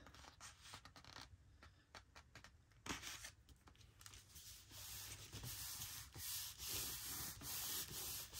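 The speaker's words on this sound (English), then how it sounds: "Burnish it down a bit." Glued paper is burnished down by hand in a junk journal, with quiet, close rubbing and scratchy strokes, first in separate short passes, then in a denser, steadier run of rubbing.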